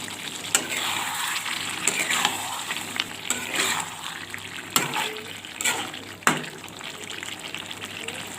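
Chicken gravy with potatoes stirred in a pan, a steady bubbling sizzle broken by several sharp scrapes and knocks of the spoon against the pan, close and fairly loud.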